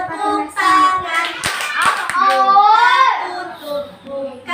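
Children clap their hands in short bursts among singing and talking voices, with a few sharp claps standing out at close range.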